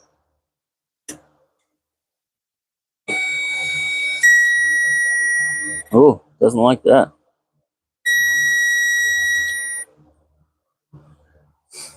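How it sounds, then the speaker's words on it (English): Loud, steady electronic beeping in two long stretches, with short bursts of speech between them and a few faint clicks. "I know that beeping is extremely loud."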